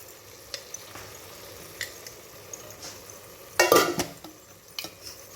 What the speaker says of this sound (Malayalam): ഇത് നന്നായി ഒന്ന് ഇളക്കുക.